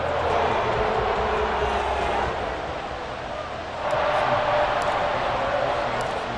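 A large football stadium crowd roars during a tied fourth quarter between the Chiefs and Eagles, a steady broad wash of cheering that dips briefly and swells again, under a commentator's voice.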